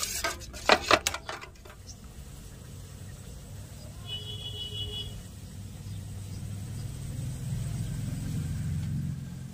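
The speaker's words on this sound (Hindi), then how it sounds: "और अब इस तरह से चम्मच से हम चला देते हैं।" A metal spoon stirs boondi raita with spices, green coriander, mint and red chilli in a bowl, giving a few sharp clinks at the start before settling into a soft, steady scraping over a low background rumble.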